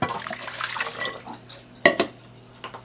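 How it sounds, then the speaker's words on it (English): Water poured into a bowl of crushed grapes with their seeds for sourdough bread, a steady close liquid splash with a couple of sharper sloshes near the end, no talk. "I will add 2 cups of water."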